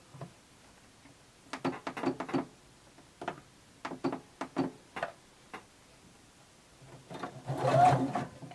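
A sewing machine runs a 3/8-inch seam along the edge of jumpsuit fabric in short, separate bursts of rapid stitching with pauses between them, then a louder, longer run at the end.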